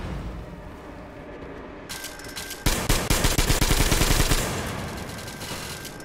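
Gunfire in the video game Metro Exodus, at a nuclear silo: a quiet ambient stretch, then a burst of rapid automatic shots rattling close and loud for about two seconds before fading into lingering noise.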